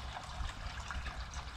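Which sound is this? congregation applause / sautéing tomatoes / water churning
water churning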